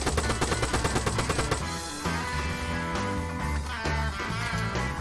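Rifle fire in the Vietnam War game ARMA 3 S.O.G. Prairie Fire, a loud rapid burst of about half a magazine that opens with distinct evenly spaced shots and runs into a dense rattling stream.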